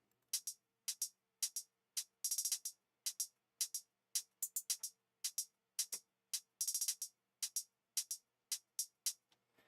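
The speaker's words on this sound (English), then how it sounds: "So like the hi-hats together sound like this." Crisp, quiet hi-hat hits in a busy pattern, with quick rolls of rapid ticks mixed among the steady strikes, no other instruments.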